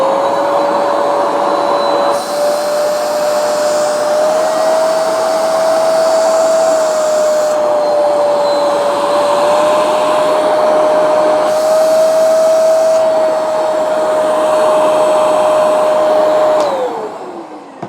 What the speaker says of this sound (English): When I push this in, it activates the solution and it sucks it through the hose.